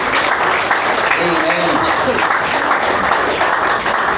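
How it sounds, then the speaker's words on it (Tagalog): Applause from a church congregation for the Lord at the close of a sermon, steady broadband clapping that fills the clip, with a voice speaking briefly over it. "Palakpak para kay Lord"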